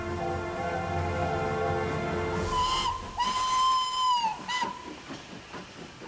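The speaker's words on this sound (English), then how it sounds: "locomotives are the last surviving machines where you can see the raw power of steam" A steam locomotive gives off a continuous hiss of steam, then sounds its whistle in several loud, sustained blasts of varying length before settling back to hissing.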